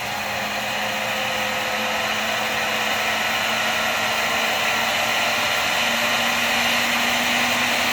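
FPV racing drone motors held at a little throttle, a loud continuous high whine with a steady hum beneath it that holds on without letup, close by and alone.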